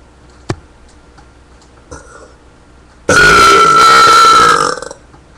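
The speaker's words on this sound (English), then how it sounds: "I'm just gonna burp now" A single long, loud burp lasting over a second, preceded by a couple of faint clicks and a soft sound in otherwise quiet surroundings.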